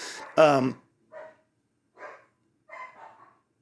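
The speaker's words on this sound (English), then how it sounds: "barking like a crazy dog because he wants to play or is tired" A dog gives one loud bark followed by several softer, shorter barks with pauses between them, nearby and alone.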